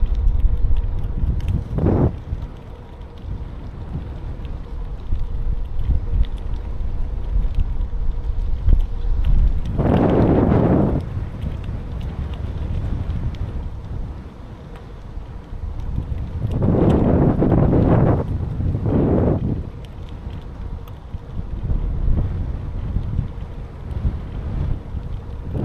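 Wind buffeting a microphone while cycling outdoors, a loud continuous low roar with several stronger gusts swelling and fading, no talking.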